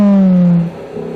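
A Lamborghini Huracan engine revs loud and close, a strong falling tone easing off partway as the revs drop, then settling into a lower steady drone.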